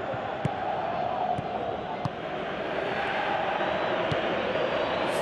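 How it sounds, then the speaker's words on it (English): Steady crowd noise from a football match in Pro Evolution Soccer 2017, a Europa League game between OGC Nice and Krasnodar, a continuous broad roar of appreciation with a few faint thuds, filling the whole stretch without a clear peak. "Crowd appreciates good football all round there"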